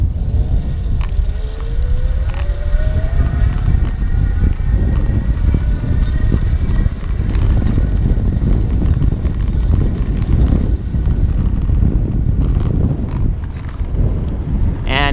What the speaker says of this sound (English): I'm gonna go ahead and push down, try to accelerate and listen for that motor.